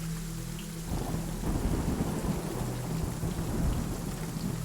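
Deep, rolling thunder rumbles through a storm beneath a constant hiss of heavy rain, steady and enveloping with no voices.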